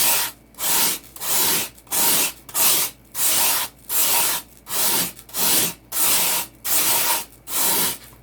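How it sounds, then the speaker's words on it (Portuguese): Sandpaper lightly rubbed across a macaron, eleven even back-and-forth scratchy strokes in a steady rhythm, close and clear with brief gaps between each pass. "então eu vou usar de leve aqui, ó, a minha lixa"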